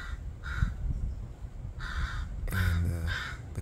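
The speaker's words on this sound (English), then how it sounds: "the crows in my neighborhood right here are very territorial, as are all crows" Crows caw at a turkey vulture perched in a neighborhood tree, a few harsh caws in short bursts, one closer and louder call near the end, over faint outdoor background.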